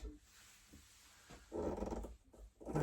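An Erbauer 600W paint sprayer, primed from a bucket, runs while spraying water, giving a close, loud, growling motor buzz in short bursts after brief quieter moments.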